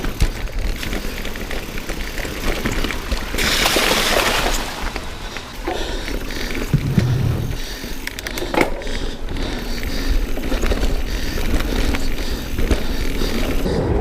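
A Specialized Stumpjumper ST mountain bike rolls over a wooded trail at Hollow Oak Reserve near Pittsburgh, with continuous tire rumble, wind buffeting and occasional rattles and clunks from rough ground.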